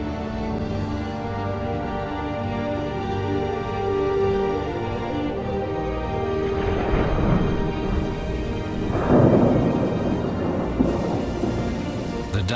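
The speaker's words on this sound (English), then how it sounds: "The downpours can be massive." A massive downpour hammers the Mongolian steppe grasslands under a sweeping cloud front, a dense steady roar of rain with deep thunder rumbling and swelling through the middle.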